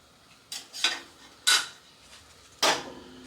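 Car paint stirred with a stir stick in its can gives four separate scraping, knocking strokes, spaced irregularly and close up, with quiet between them.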